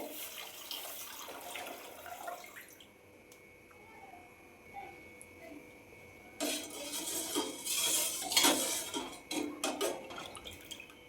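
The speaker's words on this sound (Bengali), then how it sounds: "দুধটা দিয়ে দিলাম প্যানের মধ্যে" Milk pours into a pan, a soft liquid trickle that swells into a louder splashing flow in the second half, with light clinks of utensils.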